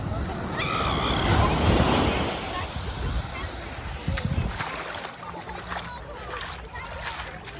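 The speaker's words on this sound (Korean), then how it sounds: "여기가 카론비치" Ocean surf washes ashore at Karon Beach in Phuket, the largest beach on the island, as a broad, continuous rush mixed with wind buffeting the microphone. The sound swells early, then eases slightly.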